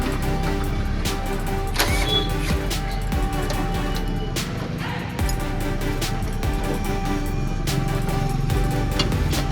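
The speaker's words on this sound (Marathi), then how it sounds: "आता आपली गाडीची स्टार्ट झालेली आहे" A modified 2006 Hero Honda Passion Plus motorcycle runs in a garage after starting, its engine idling close and loud in a steady, continuous rumble with small clicks and ticks.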